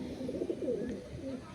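Low, throaty cooing from a pair of pure Andhra pigeons carries on steadily through the clip, rolling in soft overlapping phrases close by with no clear pauses.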